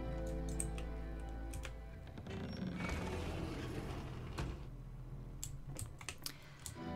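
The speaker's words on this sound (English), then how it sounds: "First, you have to open the door." Door-opening mechanism in The Beginner's Guide game: a low steady hum with rapid ticking clicks, swelling into a grinding, rattling mechanical rush in the middle before settling back to scattered ticks.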